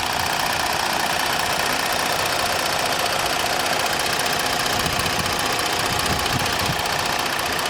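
A 2019 Ford Taurus Police Interceptor with the 3.5 engine, front-wheel drive and in good running condition, idles steadily with a loud, even, dense mechanical rumble and no voices.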